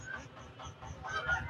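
Geese honk in bursts at a busy rural goose market, the calls fairly near and overlapping with a low background rumble of crowd activity.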